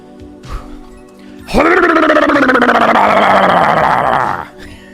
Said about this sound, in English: Electabuzz has one of the best cries in the anime.